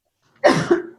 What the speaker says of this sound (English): That was like my second coughing fit of the day.